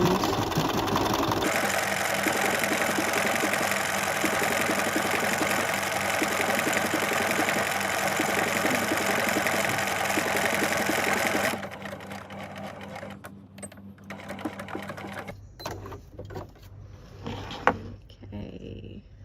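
An embroidery machine stitches a decorative row onto a gift card holder, a loud steady whirring hum with a rapid regular needle rhythm running continuously, then stopping, leaving quieter handling noises and a brief click.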